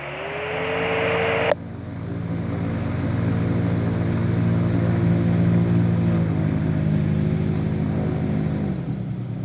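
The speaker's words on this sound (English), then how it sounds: "There we go. We have the engine going." An MTO Sport autogyro engine catches after a starter whine and settles into a steady, close, droning idle that runs on before easing down at the end.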